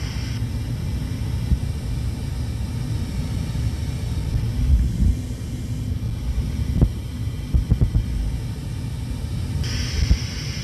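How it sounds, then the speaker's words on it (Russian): Steady broadband rumble inside an An-124-100 cockpit as the flaps extend during a short landing approach, a continuous airflow and engine roar with a few faint clicks and no talk. "Закрылки выпускаются синхронно."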